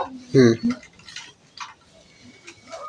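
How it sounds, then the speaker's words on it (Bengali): A lid is lifted off a pot of spinach biryani after it has rested on low heat. Brief metallic clinks and a soft rattle follow a short burst of voice, then fade into near-quiet. "ঢাকনাটা তুলে নিলাম"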